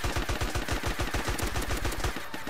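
Rapid automatic gunfire in the game DayZ: a dense, continuous burst of more than a dozen shots at an even fast rhythm, loud and close.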